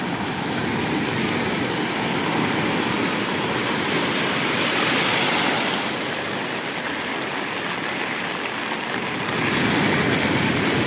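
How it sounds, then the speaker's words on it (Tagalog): Strong ocean waves crash and roar continuously nearby at Patungan Beach during heavy rain, a dense, loud wash of surf noise that swells and eases over several seconds. "Grabe lakas ng alon ito."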